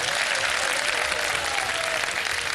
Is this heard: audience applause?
yes